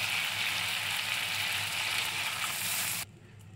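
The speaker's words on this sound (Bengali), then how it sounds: "তো এই অবস্থায় আমি জলটা দিয়ে দেবো।" Mustard masala frying in a pan with water poured in gives a loud, steady sizzle lasting about three seconds, then cutting off abruptly to near quiet.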